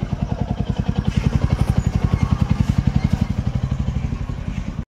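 A motorcycle engine runs close by with a loud, fast, steady pulsing throb that holds even for several seconds and then cuts off sharply at the end.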